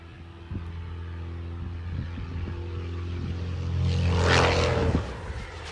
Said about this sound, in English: This small airplane did an amazing stunt, and then landed a little hard.